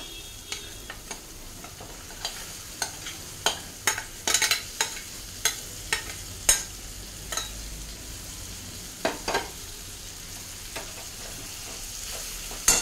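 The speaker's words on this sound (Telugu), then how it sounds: "ఇక్కడ కందిపప్పు వేసేసుకుందాం అండి. పప్పు చూపిస్తాను." Toor dal fries and sizzles in a pan, with a steady crackle underneath and a series of sharp scraping stirs and clinks. The stirring comes at irregular intervals throughout, close and moderately loud, with no talking.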